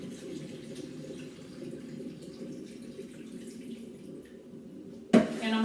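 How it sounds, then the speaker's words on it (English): Tap water runs steadily from a kitchen sink faucet over raw chicken being rinsed, a close, continuous splashing flow that ends in a sudden clunk and louder splash. "Put some more water on it from the sink."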